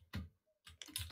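Computer keyboard typing in a few quick bursts of clicky keystrokes, close and fairly quiet, with a short pause between bursts.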